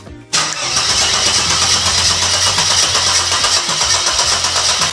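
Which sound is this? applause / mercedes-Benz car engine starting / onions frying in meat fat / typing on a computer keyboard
mercedes-Benz car engine starting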